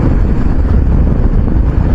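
Strong wind buffets the microphone on the Malshej Ghat mountain pass during the monsoon, a loud, steady low rumble with gusty texture throughout and no voices.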